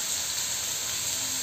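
Paneer pieces frying in a pan for matar paneer, giving a steady, even hiss and sizzle that holds at one level throughout, close by with no talk.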